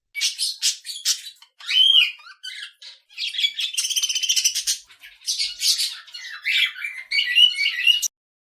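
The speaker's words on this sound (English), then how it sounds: "Budgerigar." Budgerigar calls come as a rapid run of chirps, squawks and warbling chatter, bright and close, in short bursts with brief gaps throughout.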